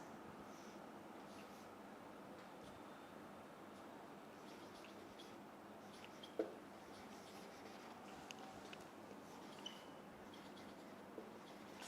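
Pen scratching faintly on paper while a heading is written, a quiet, steady rustle with one brief tap, close up and without speech.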